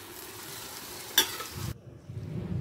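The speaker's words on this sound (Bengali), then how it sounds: "ভালো করে মিশিয়ে নিচ্ছি" Boiled dal being stirred into chicken in a pan gives a soft, close scraping and gentle sizzle, with one sharper clatter of the spoon, then a quieter bubbling.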